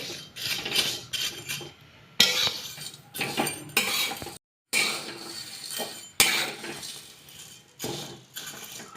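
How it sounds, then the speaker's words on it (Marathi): Vermicelli dry roasting in a pan, stirred with a metal spoon: close, bursty scraping and clinking strokes in uneven runs with a brief pause midway, no sizzle and no voices. "थोड्याशा लालसर होईपर्यंत भाजायच्या दोन मिनटं भाजून घेते"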